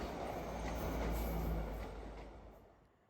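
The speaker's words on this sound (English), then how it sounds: "First we see an Oakhampton train passing the redundant northbound platform." An Okehampton train rolls past a redundant northbound platform on the Crediton line, a low, heavy rumble that swells and then fades away over a few seconds.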